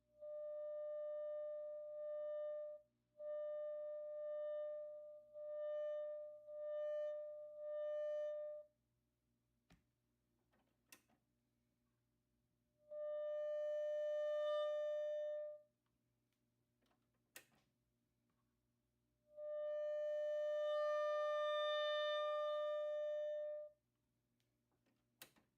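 Sine wave test tone run through a converted Heathkit T4 guitar tube amp: steady buzzy pitched tones, first a series of short pulses, then two longer sustained tones, with faint clicks and quiet hum in the gaps.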